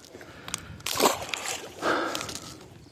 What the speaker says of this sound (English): Did you hear that bite in the swim bait?